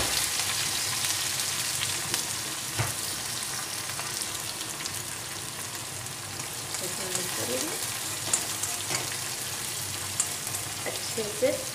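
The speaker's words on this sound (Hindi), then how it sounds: "तेल गर्म है, इसमें हमारी मिर्ची अच्छे से फ्राई हो जाएगी।" Green chillies and cumin fry in hot oil with a dense, steady sizzle that fills the whole stretch, broken by a few brief stirring clinks and no talking.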